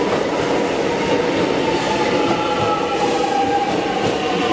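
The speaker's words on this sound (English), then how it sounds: "On the street train arriving," A Melbourne tram on route 126M in East Richmond rumbles steadily, with continuous low mechanical rumble and faint wheel hum, loud and close throughout.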